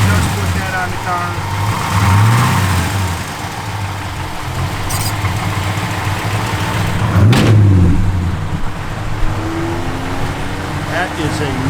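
A 1966 Dodge Coronet 500's engine idles loudly and close, then revs up twice in rising surges, and a voice talks over it.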